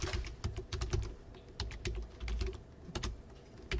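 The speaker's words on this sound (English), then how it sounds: "God, I can't type" Typing on a computer keyboard, with quick bursts of sharp, close key clicks in uneven clusters over a low background hum.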